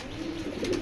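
A foreign racing pigeon coos from inside a small cage, a soft, steady low murmur that runs close and unbroken through the moment with no voices.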